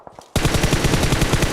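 Rapid automatic gunfire from the mobile battle-royale game PUBG Mobile bursts in loud and close after a short quiet start, a dense continuous string of shots with no talk over it.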